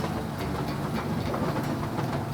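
Steady rumble and rattle of a small train riding toward Wulai, heard from inside the car as a dense, continuous noise with faint clicking from the wheels.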